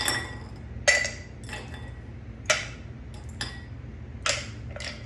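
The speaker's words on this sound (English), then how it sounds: "Then you add some ice. And I'm using my round ice cubes today." Round ice cubes drop and clink into a cocktail glass one by one, about six bright, sharp knocks spaced irregularly over a low room hum.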